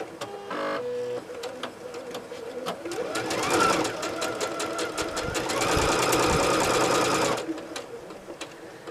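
A domestic sewing machine stitches flying geese quilt blocks, its steady whirring run swelling and easing over several seconds with faint clicks, then stopping near the end.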